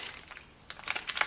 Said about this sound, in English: I highly recommend getting a plastic bag